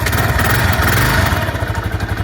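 A 2011 Kawasaki KLR650 single-cylinder engine runs close and loud just after a cold start without choke, a steady rapid thumping idle with slight unevenness and mechanical clatter.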